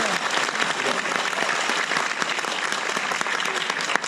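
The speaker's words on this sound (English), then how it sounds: "I want all of you to give yourself a big round of applause" A large audience at an Amway business talk breaks into sustained applause, a dense, even wash of clapping filling the room without pause.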